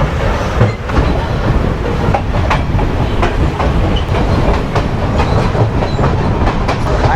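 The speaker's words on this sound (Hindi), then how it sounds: "Only diesel train. Class M4 locomotive." A Sri Lanka Class M4 diesel locomotive passing with its train in Colombo, a loud, close rumble with continuous clickety-clack of wheels over rail joints and faint metallic squeals.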